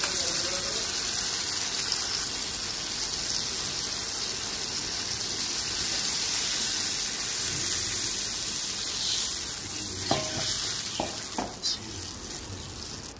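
Water hits a hot cooking pan and sets off a steady, broad hiss and bubbling that runs the whole time, close and even, with a few light clinks near the end.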